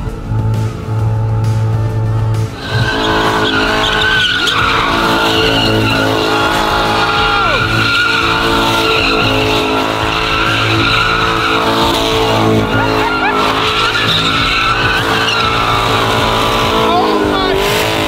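A Chevrolet Camaro does burnouts, its engine roaring loud and sustained near the rev limiter while the tires squeal and skid continuously. A short quieter start gives way to the full roar, with voices heard now and then under it.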